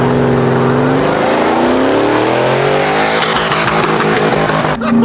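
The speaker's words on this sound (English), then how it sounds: "You have to burn a little rubber for this video." Supercharged truck burns rubber: a loud, sustained engine roar climbs in pitch with continuous tire squeal and screeching, rising steadily close by before cutting off abruptly at the end.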